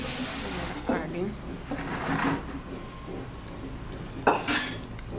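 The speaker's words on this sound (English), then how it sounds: "then you have to mix it nicely" Mutton is stirred through a curd (dahi) marinade in a pot, giving soft clinking and scraping of a utensil against the dish in a few brief bursts, with a voice speaking faintly in between.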